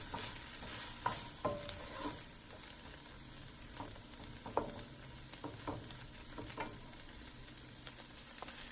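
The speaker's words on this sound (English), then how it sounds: "add the chopped garlic and give it a good mix throughout the onions, and then continue to cook it on medium-low heat for 5 minutes" Onions and chopped garlic cook in a pan over medium-low heat, a soft continuous sizzle broken by repeated stirring scrapes and taps of the utensil, nearby and fairly quiet, with no voices.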